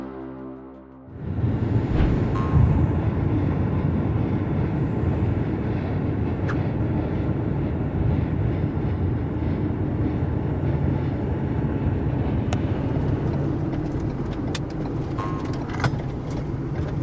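A van cruising on a desert road near Slab City and the Salton Sea gives a steady, loud engine and road rumble after a brief quieter start, continuing evenly throughout with no talking.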